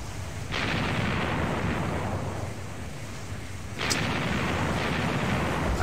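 Kriegsmarine naval ships' guns firing in Wargame Design Studio Naval Campaigns: two heavy booms, each followed by a long, rumbling roar that fills the space, loud and without speech.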